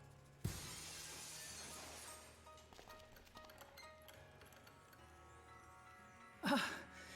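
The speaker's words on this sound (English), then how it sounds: "let's cross our fingers that the seat cover absorbs the noise of the breaking glass" Glass breaking under a seat cover in the point-and-click game Dead Synchronicity: a sudden sharp shattering crash at the start, then a quiet stretch of faint game ambience, ending in a second brief crunching burst.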